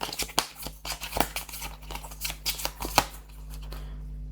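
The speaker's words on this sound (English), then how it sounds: "let's shuffle the bosses here" Mini Rogue boss cards are shuffled by hand on a tabletop, a run of quick papery riffles and slaps with short pauses, close and fairly quiet, no one talking.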